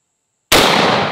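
A single enormous 4 bore rifle blast, fired from the shoulder with a 2,150 grain bullet, erupts after a short silence and leaves a loud, sustained rumbling decay.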